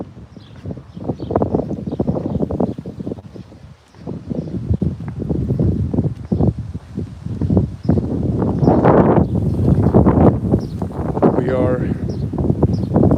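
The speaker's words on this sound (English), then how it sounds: "Maybe it's super windy for the mic" Heavy wind buffeting the microphone rumbles continuously under a person talking, with gusts swelling louder toward the end.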